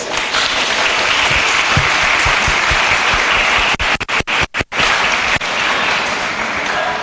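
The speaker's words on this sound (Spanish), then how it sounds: "forte aplauso" Loud, dense audience applause at a live broadcast event, a steady wash of clapping with a few brief dropouts in the middle.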